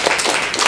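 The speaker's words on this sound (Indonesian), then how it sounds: "Kelompok 4, tepuk tangan kelompok 4." A classroom of students claps for a presenting student group. The clapping is a brief, lively burst that stays close and fairly loud.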